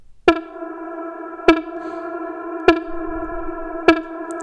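A distorted synth lead sidechained to the kick holds a steady chord that swells and ducks in a regular pulse, with sharp attacks about every second and some echo.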